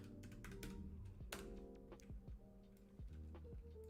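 Someone types on a computer keyboard nearby, a quiet, irregular patter of keystrokes with a few sharper clacks scattered across a few seconds.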